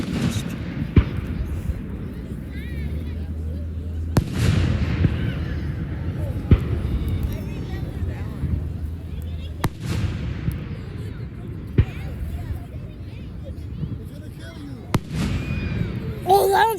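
Fireworks at a 2024 display go off in scattered sharp bursts and thuds, several loud cracks spaced over a steady rumbling crowd and ambient noise, with people talking nearby.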